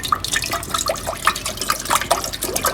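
Water poured into a pot for cheese and potato soup, a steady splashing, trickling stream with small drips, close and fairly loud with no voices.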